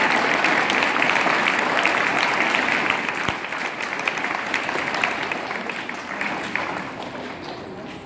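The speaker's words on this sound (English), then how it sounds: "A round of applause." Sustained audience applause at a student awards ceremony, many hands clapping steadily throughout, loud and close, tapering slightly toward the end.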